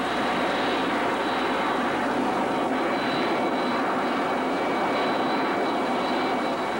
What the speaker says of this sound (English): the first successful flight of the QF-86H occurred at the Naval Weapons Center